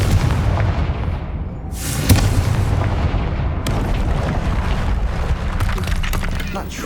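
A Confringo fire spell in Hogwarts Legacy erupts in fiery explosions, one sharp burst near the middle and another soon after, over a continuous crackling, rumbling roar.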